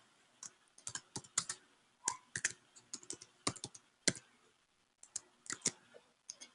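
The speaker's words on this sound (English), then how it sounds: "She's typing there." Typing on a computer keyboard, quick irregular clusters of crisp key clicks at close range with short pauses between bursts, no talking.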